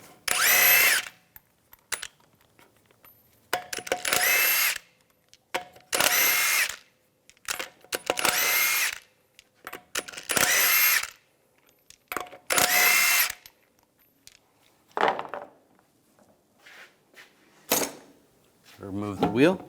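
Power tool with a 22mm socket spinning lug nuts off a 2007-2014 Cadillac Escalade wheel, about ten sharp whirring bursts of a second or so separated by silences, loud and close.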